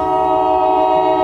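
A loud, sustained Bombardier train horn blares at close range, holding a steady chord throughout with a faint rumble beneath.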